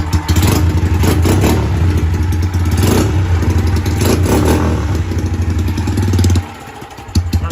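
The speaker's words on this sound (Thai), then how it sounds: "เครื่องเงียบๆนะครับมีเสียงแคมนิดๆนะครับ" A Honda Sonic 125 motorcycle engine runs close by, a loud mid-pitched chug with a slight cam tick and clatter. It holds steady for about six seconds, then drops off sharply near the end.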